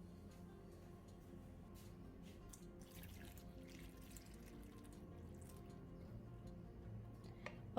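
Water runs steadily from a tap over salted, chopped bitter gourd (karela) in a bowl, a soft continuous trickle with light drips and faint handling clicks, no voices.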